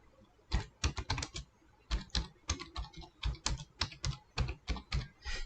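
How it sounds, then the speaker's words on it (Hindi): Someone types on a computer keyboard, a quick irregular run of close, crisp key clicks in short bursts with brief pauses, alone without talk. "आपको सिंपली टाइप करना है NSE ऑप्शन चेन"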